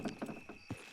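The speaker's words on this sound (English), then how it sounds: "Horses will pull it clean down." Horses' hooves clip-clopping in the video game Red Dead Redemption II, a few quick irregular hoof thuds close by, fairly quiet and heard alone.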